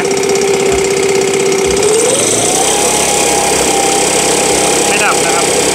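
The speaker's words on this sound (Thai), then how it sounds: "เดี๋ยวมาเร่งเครื่องกันเร่งสุดเลยนะครับ" Chinese GX35 brush cutter engine idling with a rattling buzz, then revved up to full throttle and held there as a loud, steady high-pitched whine with no other sound.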